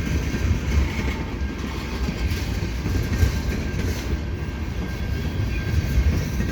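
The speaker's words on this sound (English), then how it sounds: "so this freight is at Des Courcelles Street on Halloween Eve" A CN freight train slowly rolling through the Des Courcelles Street crossing on a cloudy autumn day, a steady close rumble of wagons and wheel noise with no voices.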